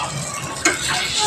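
Potato tikki frying in a little oil in a pan, a steady close sizzle with a brief louder burst of spitting partway through.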